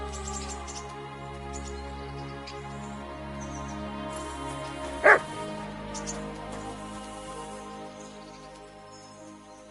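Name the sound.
dog barking in Kingdom Come Deliverance 2 video game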